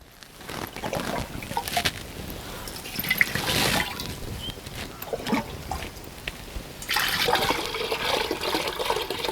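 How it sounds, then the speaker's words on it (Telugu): Water splashes and gushes into a bowl in uneven bursts, with trickling and dripping in between; no voices. "ఇప్పుడు ఈ గిన్నెలో సగాని వరకు నీళ్ళు వేసుకోవాలి"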